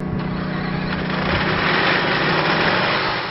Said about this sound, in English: started its first pre-production engine this week on a test stand